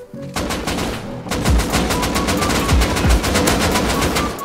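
Rapid automatic gunfire in the game Rust rattles out in a long, loud, close burst, with heavy thumping impacts mixed into the sustained stream of shots.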